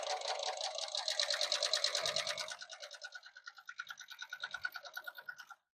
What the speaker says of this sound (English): So now we're going to start sewing all these up.